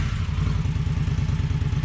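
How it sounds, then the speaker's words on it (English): Indian motorcycle with a fairly quiet stock exhaust idling at night, a steady, close, low rhythmic thrum with a light mechanical clatter. "we're letting the bikes run, Dad"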